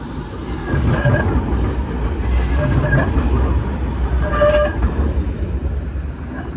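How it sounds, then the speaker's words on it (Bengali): A tram departs along the tracks in Moscow's old town, wheels grinding steadily with faint metallic squeals partway through, fairly loud and close. "এখন ট্রাম তার গন্তব্যে চলে যাচ্ছে"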